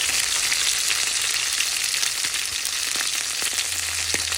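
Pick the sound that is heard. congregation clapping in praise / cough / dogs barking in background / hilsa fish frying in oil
hilsa fish frying in oil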